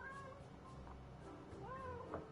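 A cat in the online role-playing game Final Fantasy XIV gives a couple of soft, rising meows at low volume over a quiet background hum.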